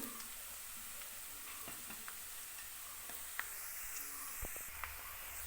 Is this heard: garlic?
yes